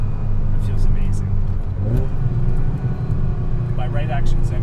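Ferrari with a manual gearbox, a 328 GTS or 550 Maranello, its engine droning loud and steady with a rev swell midway as the car drives on; a voice talks over it.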